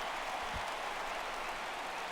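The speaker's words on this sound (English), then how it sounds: "This crowd oohs and ahs every time this guy hits a fly ball" A stadium crowd in the baseball video game MLB The Show 16, Rockies vs Giants, lets out a faint, steady murmuring swell as a fly ball carries to center field, distant and without speech.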